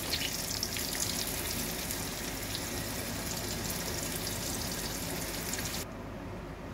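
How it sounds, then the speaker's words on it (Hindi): Pointed gourd (parwal) frying in hot oil in a pan gives a steady, loud, close crackling sizzle that runs unbroken and then drops slightly near the end, with no voices. "बाकी के जो बचे हुए परवल हैं वो भी इसी तरह से हम फ्राई कर लेंगे"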